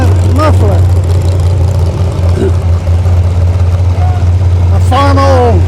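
A John Deere tractor engine running without a muffler, a loud steady low drone close by, with voices speaking over it at times.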